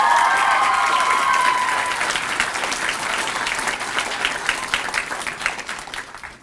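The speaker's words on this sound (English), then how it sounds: "Another round of applause for all the 11th graders." An audience at a school founders' night applauds the 11th graders, a loud burst of clapping that gradually thins and fades over several seconds.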